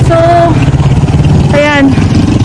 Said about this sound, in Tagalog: Ang dami kasi mga motor yung dumadaan dito.